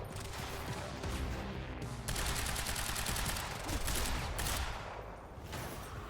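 Assault rifle fire in Quantum Break crackles in sustained automatic bursts, fairly distant and muffled, with brief gaps between volleys and no talk.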